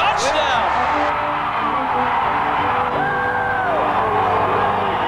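Marshall football fans at a 1999 game roar and whoop after a touchdown, a loud, continuous stadium crowd with a commentator speaking over it.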